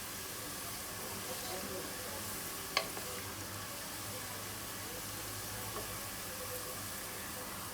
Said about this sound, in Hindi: अब मैं इसके अंदर ये साबित गरम मसाला शामिल करने लगी हूँ सारा। इसको हल्का सा फ्राई करेंगे।